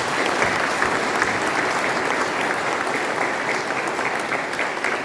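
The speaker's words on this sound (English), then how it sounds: "Let us give them a round of applause." A dense, sustained round of applause for the armed forces from a large audience at a Kargil hero commemoration event, steady and loud throughout with no voices over it.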